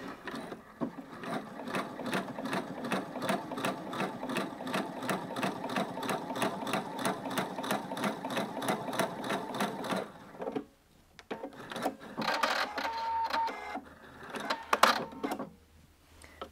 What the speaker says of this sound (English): I'll be able to sew a nice parallel, evenly spaced row of stitches